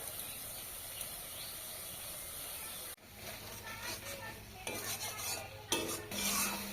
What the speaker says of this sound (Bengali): এবার এই টমেটোর পেস্ট এটা দিয়ে দেবো